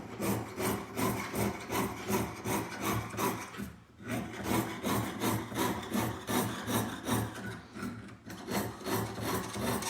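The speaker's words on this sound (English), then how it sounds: "I'm always sawing up and down when I'm turning." A jeweler's saw pierces sheet metal in quick, even up-and-down strokes, a close, rhythmic rasping that keeps going for about ten seconds with two brief pauses and no talking.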